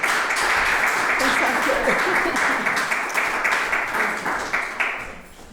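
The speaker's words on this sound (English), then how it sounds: "Let's give one more round of applause for Carmen Murguia." An audience applauds a poet after a poetry reading: dense, loud, sustained clapping from a crowd with some voices mixed in, easing off toward the end.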